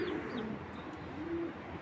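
Racing pigeons from a club loft coo softly and repeatedly in low, murmuring tones over a steady background hum, with no voices.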